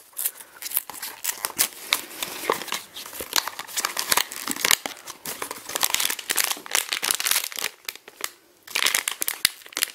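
A foil packet holding a Vinylmation figure is handled and opened, giving close, continuous crinkling and crackling with sharp bursts of rustle and tearing.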